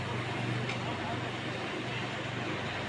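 Heavy road traffic streams past in a continuous, even roar of many vehicles, with no single pass standing out.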